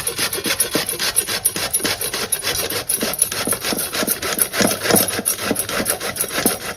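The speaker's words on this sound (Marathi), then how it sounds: "मोठ्या किसणीने किसून घ्यायचा" Bottle gourd (dudhi) with its skin on being grated on a large grater, a fast steady rasping scrape of rhythmic strokes, close and continuous, no voices.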